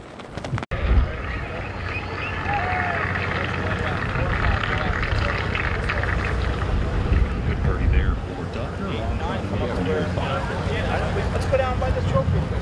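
Strong wind buffets the microphone on a golf course in Southampton, New York, a steady roaring rush that runs throughout under people talking.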